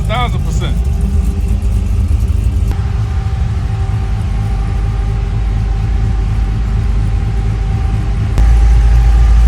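The supercharged engine of the car Megladon idles steadily with a deep rumble, rising in pitch after a few seconds and booming louder near the end. People talk over it at the start.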